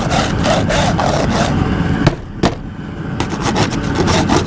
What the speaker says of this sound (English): I'd scrape them like this.